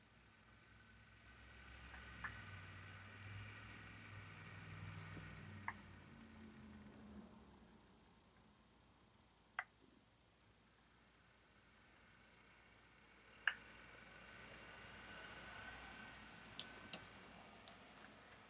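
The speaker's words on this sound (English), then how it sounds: "Now let's give you a quick quiet run by of this so you can hear the drive line" An Athearn Genesis GP15-1 model locomotive's drive line runs quietly, a faint, steady low hum with a few soft, isolated ticks and clicks spread across the run.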